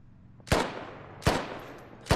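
Three spaced gunshots from a shooter video game, each a sharp loud crack with a short fading tail, heard alone over quiet background.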